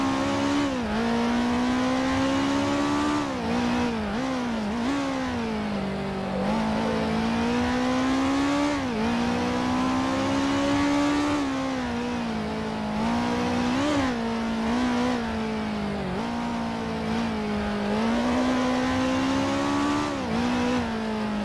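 A race car engine in the Grand Prix Legends racing game on the Targa Florio circuit revs continuously, rising and falling in pitch as it downshifts and accelerates through corners, loud and close throughout.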